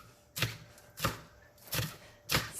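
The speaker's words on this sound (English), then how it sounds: "I will dice these up here into pieces." A knife dicing scallions on a cutting board for egg drop soup, four sharp distinct chops spaced about two-thirds of a second apart, close and clear with no talking.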